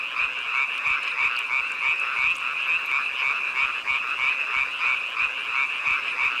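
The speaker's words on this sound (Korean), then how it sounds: "청개구리다." A dense chorus of tree frogs, males calling to attract females, croaks loudly and continuously in a steady pulsing drone with no voices.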